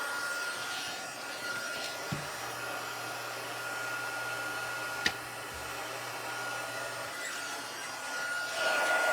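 A heat embossing tool heats up over a card, giving a steady, loud blowing hiss like a hair dryer that runs through the whole stretch, with a low hum and a small click.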